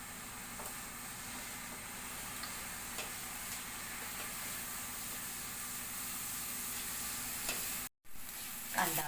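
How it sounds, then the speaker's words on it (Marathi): Chopped onion sautés in a pan for dhaba-style garlic fenugreek curry. A steady, close sizzle runs throughout with light spatula scrapes and ticks, and a brief cut to silence comes near the end. "कांदा थोडा आपल्याला परतून घ्यायचा आहे."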